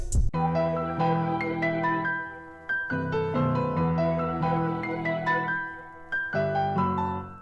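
A full piano melody processed with effects for a hard trap-style beat, with cut low end and a portal-type effect, plays alone: shimmering, reverberant chords and bright notes in phrases with brief dips, close and steady, no talking.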